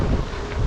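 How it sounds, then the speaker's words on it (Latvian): Wind buffeting a microphone during a gravel-road bike ride, with the wind at the rider's back: a steady, loud low roar that fills the whole short moment with no speech. "Vējš iepūš mugurā."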